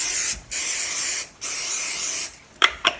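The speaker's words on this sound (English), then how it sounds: "just spray it pretty generously so they don't stick" Cooking spray hisses onto a donut pan in three generous bursts, each about a second long, loud and close, followed by a few short clanks.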